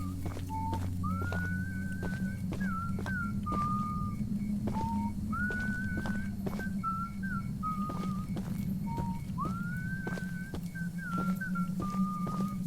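Characters in the video game Choo Choo Charles whistle a repeated rising-and-falling tune in clear phrases over a steady low rumble of background game ambience.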